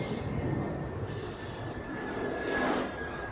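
Austrian Airlines airliner turning onto the runway at Zurich Airport, a steady broad jet engine roar from moderate distance with a faint whining tone above, swelling slightly toward the end, no talk.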